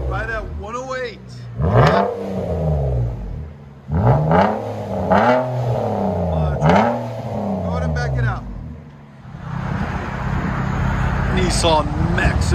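A 2017 Nissan Maxima with a 3.5-liter V6 and its resonator and muffler deleted revs repeatedly in loud, rising and falling bursts close by. It finishes on a steady, raspy drone, with talk in between.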